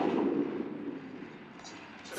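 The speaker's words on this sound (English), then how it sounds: "another beautiful sequence of explosions as this island goes up in smoke" Explosions from a Terrahawks TV episode roll out as a deep, continuous rumble, loud at first and then slowly fading, with no clear separate bursts.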